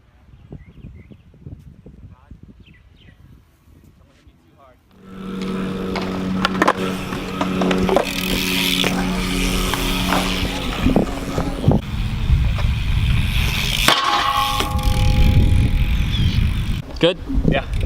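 BMX bike riding: after a quiet stretch with talk, loud rolling tyre rumble and rattling clatter begin and continue, with sharp knocks and impacts, voices occasionally over it.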